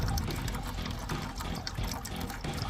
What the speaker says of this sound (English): See it emptying? Watch this. It's like a toilet or something. You hear that?